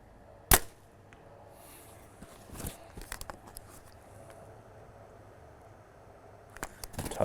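An arrow is released from a bow at an antelope target 46 yards away, a single sharp snap followed by a quiet stretch, then faint distant knocks and rustling.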